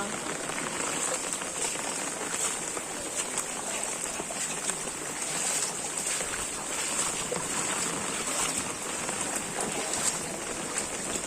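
Heavy rain pours steadily onto a flooded street in Mumbai, a dense, continuous hiss of water splashing and drumming on surfaces that stays even throughout.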